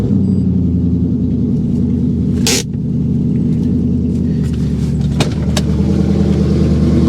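A car engine runs with a steady, loud, low rumble at an auction yard walk-around, the motor idling evenly throughout with a brief dip and a few faint clicks and knocks on top.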